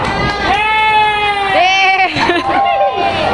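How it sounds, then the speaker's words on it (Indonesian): Grade 6B primary schoolchildren on an outing class from SD Hati Kudus Rajawali in Makassar cheer loudly together, a sustained chorus of high-pitched shouts and whoops that swells and dips for several seconds, close and energetic. "Tepuk tangannya dulu, 6B sama."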